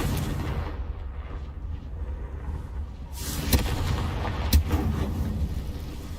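A Confringo blasting spell in a Hogwarts video game: a roaring burst followed by two sharp explosive cracks over a low rumbling background.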